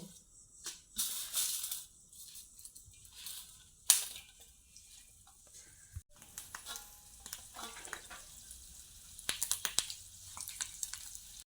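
Cloves and fenugreek seeds dropped into a bowl of heated hair oil crackle and sizzle in irregular bursts, with stirring clinks and sharp spits coming and going close by.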